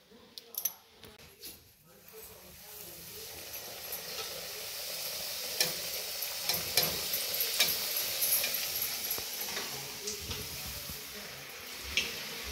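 Puri fries in hot oil while more oil is spooned over it, giving a soft continuous sizzle with scattered crackles and light clicks, a voice briefly heard in the background.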